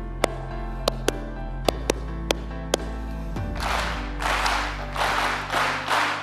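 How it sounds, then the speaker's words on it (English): A single person claps a sparse rhythm of sharp, distinct claps, then a crowd answers with several loud bursts of group clapping. "I'm going to clap a pattern."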